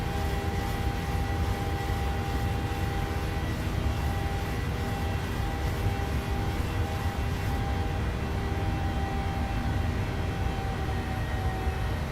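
Jet engines of a PMDG 737-800 in Microsoft Flight Simulator running at climb power, a steady broadband roar with tonal whine that stays constant and alone throughout.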